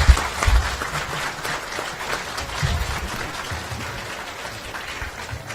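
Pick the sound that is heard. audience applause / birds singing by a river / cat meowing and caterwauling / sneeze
audience applause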